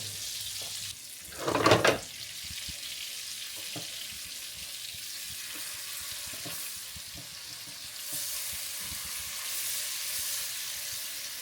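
Salmon fillets sizzle in melted butter in a pan for honey glazed salmon, a steady close frying hiss with a brief louder burst of clatter near the start, then a gently rising sizzle.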